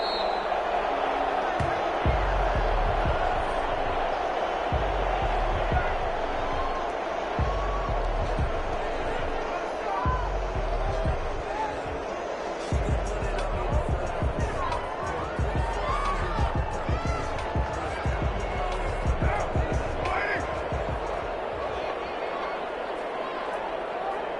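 A stadium crowd in a Madden football video game at a Carolina Panthers versus New Orleans Saints match, with a dense, steady roar and murmur filling the background and thumping impacts scattered through it.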